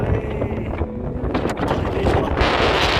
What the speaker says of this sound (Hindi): कैसी हवा चल रही है,